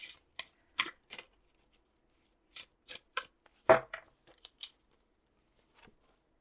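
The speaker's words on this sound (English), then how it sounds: "Just very quickly shuffle." Tarot cards are shuffled quickly by hand in a quiet room, a series of short crisp riffling snaps in irregular bursts, close and clear with no talking.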